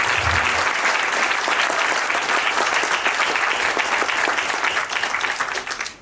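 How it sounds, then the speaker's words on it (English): A community forum audience gives the panelists a big, dense round of applause, loud and continuous for several seconds before tapering off at the end. "big round of applause for all our panelists, please"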